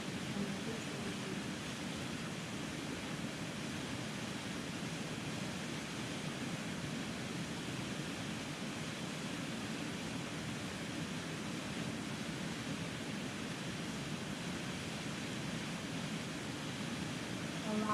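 A waterfall in the Catskills pours in a steady, even broadband rush that holds at a constant level throughout, with no clear breaks or other sounds.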